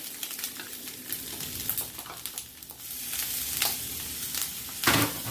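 Shrimp fried rice tossed with duck sauce in a pot, a close, lively sizzle with repeated scraping stirs and clattering bursts as the spoon works through the rice.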